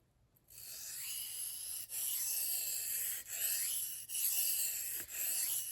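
A blade swiped repeatedly across a Tonahutu whetstone, steady close abrasive rasping in several long strokes separated by brief pauses, with no talking.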